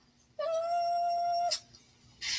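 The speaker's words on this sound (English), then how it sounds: "Are you a tiny kitty?" A small cat gives one long, clear, drawn-out meow close by, then a short rustle and a burst of noise.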